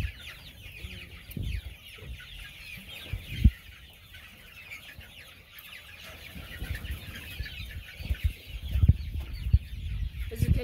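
Pet chickens cluck softly and intermittently around unfamiliar new vegetables, their calls growing busier and louder toward the end over a faint background hum.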